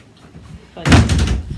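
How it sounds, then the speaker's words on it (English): A door bangs shut partway through, a sudden loud thud with a short rattling tail, after a quiet moment. "I'm just going to close that door."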